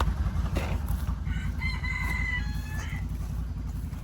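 Chickens cluck continuously at close range on a farm while a rooster crows once through the middle, over steady background rumble.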